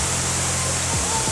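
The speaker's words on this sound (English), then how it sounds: "this big lake and this man-made waterfall" A man-made waterfall beside a large lake in a park in New Plymouth, Taranaki, New Zealand gives off a steady, dense rush of falling water, close and unbroken, with a faint low hum beneath it.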